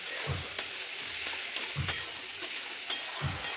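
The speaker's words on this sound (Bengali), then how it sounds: "এটা দিয়ে এবার ভালো করে কষিয়ে নেব" A paste of poppy seed, green chilli and yogurt fries with ridge gourd in a pan, with a quiet steady sizzle and three dull spatula knocks spaced evenly over nearly four seconds, heard close with no voices.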